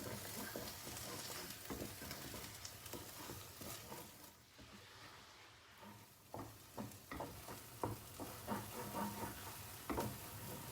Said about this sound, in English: Fry until the palm sugar dissolves.